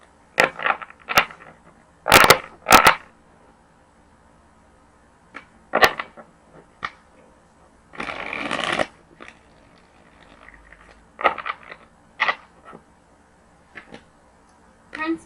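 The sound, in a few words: shuffling tarot cards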